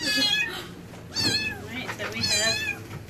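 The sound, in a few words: wet kittens meowing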